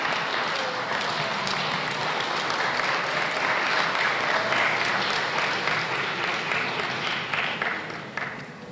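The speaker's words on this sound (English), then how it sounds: "A round of applause for the graduates at this time." A large crowd claps for newly pronounced graduates at a 2021 high school graduation ceremony, a dense, sustained roar of applause that holds steady, then begins to thin toward the end.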